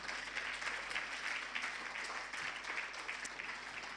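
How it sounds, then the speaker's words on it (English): Steady audience applause fills a conference hall at an annual SME conference and expo, dense continuous clapping from many hands at moderate distance with no talk over it. "let's clap for our MCs."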